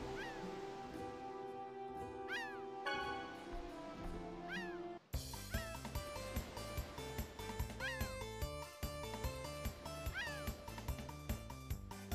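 A cat meows repeatedly in the video game Tales of Symphonia, several short rising meows over looping game music, the tune shifting partway through.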